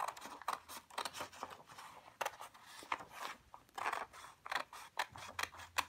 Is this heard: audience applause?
no